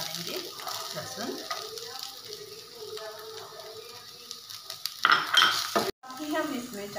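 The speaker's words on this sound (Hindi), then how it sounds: "अब हम इसमें डालेंगे लहसुन।" Garlic is added to onions frying in a pan for egg curry, with sizzling, utensil scraping and stirring clatter against the pan, moderately close, and a brief metallic clink near the end.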